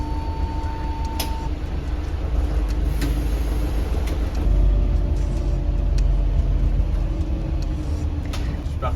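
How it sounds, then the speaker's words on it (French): A city bus engine runs at a steady, loud low rumble, close by, with faint clicks and minor mechanical noises on top and no talking. "Je démarre mon bus."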